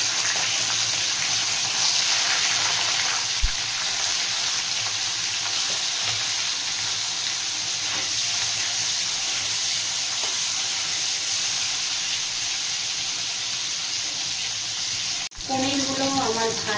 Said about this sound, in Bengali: তেলটা গরম হয়ে গেছে, এবার পনিরগুলো দিয়ে ভেজে নেব।